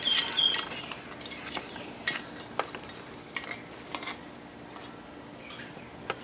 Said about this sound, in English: we're putting the block nut on